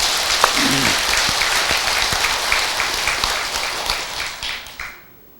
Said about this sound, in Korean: 대중 스님들, 주지 스님, 또 봉사자들을 위해서도 박수 한번 보내주세요